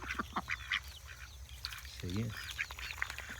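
Several ducks on a chicken farm quack in short nasal bursts, one louder call near the middle, mixed with other bird chatter while someone talks briefly.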